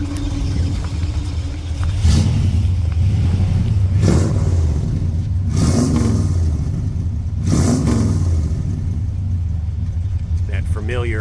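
A big 327 V8 engine in a 1967 Chevrolet Malibu revs hard several times, a deep rumbling growl rising and falling over a steady idle, loud and close.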